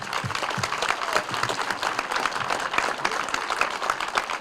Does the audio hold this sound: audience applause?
yes